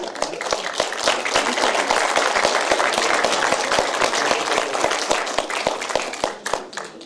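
An audience at a board meeting breaks into sustained applause, many hands clapping densely for several seconds before tapering off near the end.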